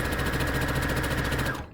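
A sewing machine stitching a surgical-style fabric face mask, a loud, fast, steady mechanical whir running close up for under two seconds before stopping abruptly.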